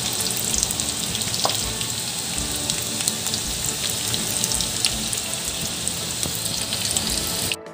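Vegetable pakoras fry in hot oil with a steady, dense crackling sizzle that holds evenly throughout and cuts off abruptly at the very end.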